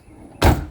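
A BMW Z3 exterior car door unlatches and swings open with a single abrupt, loud clunk and rush after a brief quiet moment, heard close up and alone.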